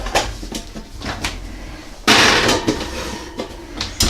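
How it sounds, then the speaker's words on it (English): Clatter from a cooking pot of meat, potatoes, onion and carrots, with several sharp knocks and a louder burst of metallic rattling midway as the lid goes on. "Put a lid on."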